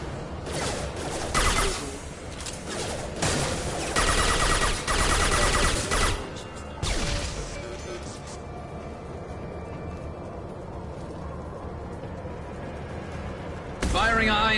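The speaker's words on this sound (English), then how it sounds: "Firing a high impact shot." Weapon fire in Mass Effect 2, repeated bursts of shots over the first seven seconds amid game noise, then a quieter stretch before one more loud blast near the end.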